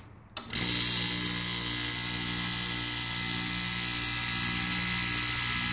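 A homemade DIY vacuum pump built like a compressor kicks on and runs with a loud, steady motor drone and whine that holds evenly to the end, with no talking.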